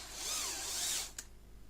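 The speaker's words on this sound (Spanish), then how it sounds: "Haremos los agujeros pequeñitos primero, para saber dónde están." A power drill bores small holes into a sander's base plate, whining loud and close for about a second before stopping with a short clack.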